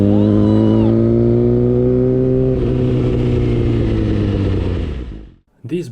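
Motorcycle engines roar loudly and steadily on a road in a sustained high-revving drone that shifts pitch partway through, then cut off sharply near the end before a brief burst of noise.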